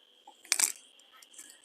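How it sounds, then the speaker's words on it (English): Kitchen scissors make a single quick metallic snip while cutting cooked asparagus, a brief close click in an otherwise quiet kitchen. "So just cut those with the kitchen scissors."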